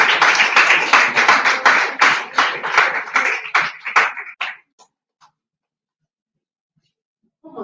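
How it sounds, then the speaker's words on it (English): A small audience at a STEAM workshop claps in a brisk round of applause for about four seconds, then it thins to a few scattered claps and goes quiet, with a brief voice near the end. "Give her a round of applause."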